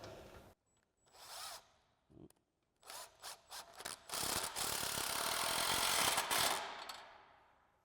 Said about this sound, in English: So we'll go ahead and grab our 15 mil socket on our impact.